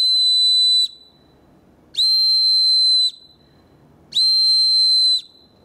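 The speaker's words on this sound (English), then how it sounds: "you need to know how to signal if you have an emergency with your whistle" Three long, shrill emergency signal blasts on a whistle, each about a second, evenly spaced with short quiet gaps between them.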